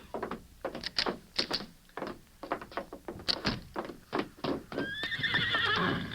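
A horse clip-clops and thumps on hard ground in a series of close hoof strikes, then lets out a loud, drawn-out neigh near the end, with no voices heard.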